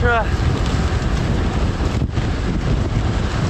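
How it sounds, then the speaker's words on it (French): Strong headwind buffets the microphone on a gravel bike climb, with a constant, loud low rumble and roar, unbroken throughout. "le vent c'est terrible aujourd'hui."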